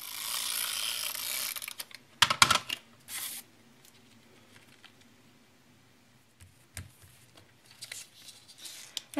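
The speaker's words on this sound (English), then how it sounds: "I'll add some quick color, and then we'll cut them out." Scissors cutting out paper candy corn shapes, with crisp snips and a burst of rapid clicking cuts early on, then quieter scattered snips and paper rustles, close by with no voice.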